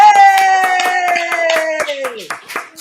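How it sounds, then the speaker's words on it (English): Clapping during a live spiritual reading stream, a run of sharp, fairly regular claps near the microphone, with a sustained sung or drawn-out voice tone running beneath. "Everybody clap."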